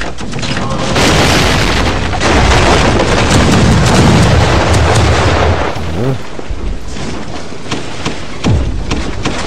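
Heavy cannon booms from pirate ships trading fire in the naval combat game Pirate Core, a rapid run of loud, dense blasts and rumbling impacts that keep overlapping and never fully die away.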